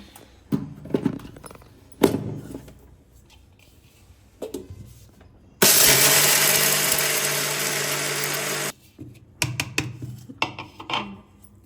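Kitchen mixer grinder grinding roasted chickpeas fine, a loud continuous whir of about three seconds framed by clattering and handling noises before and after.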